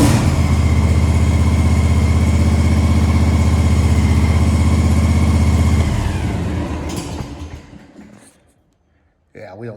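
A John Deere S240 riding mower with a Kawasaki 21.5 engine runs loud and steady at close range, then winds down and fades to near silence before a brief noise at the end.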